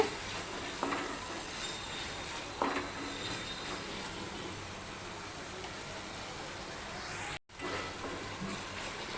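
Spice masala cooks in a pan with a couple of spoonfuls of water added, giving a continuous, even sizzle and hiss with a few faint knocks and one brief cutout; no voices.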